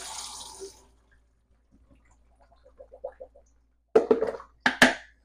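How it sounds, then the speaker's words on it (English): Water from a pot of microwave-cooked pasta pours and drips as it drains, starting with a brief splashing rush, then faint trickles and drips, and ending in a few sharper splashes and clatters close by. "So I'll just drain these real quick."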